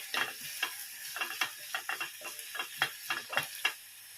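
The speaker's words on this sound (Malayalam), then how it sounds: "മഞ്ഞൾപ്പൊടി ചേർത്ത് നന്നായിട്ട് മിക്സ് ചെയ്യും." A spoon scrapes and stirs chopped capsicum with turmeric in a frying pan, a quick run of sharp clicks and scuffs over a soft sizzle.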